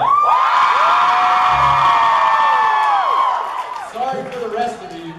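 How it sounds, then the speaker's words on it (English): Audience at a DallasCon 2014 fan convention panel erupts in loud screams, whoops and cheering, with sustained high-pitched yelling that fades out after about three seconds into scattered voices. "a round of applause and blood-curdling screams"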